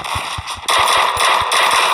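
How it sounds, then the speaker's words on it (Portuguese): Gunfire in the video game Garena Free Fire, several quick, loud shots in an uneven burst over a constant background hiss, with no talking. "Deu dois tiros."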